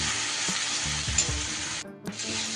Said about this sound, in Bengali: পেঁয়াজটা 1 মিনিটের মতো তেলের মধ্যে ভাজা ভাজা করে নিয়ে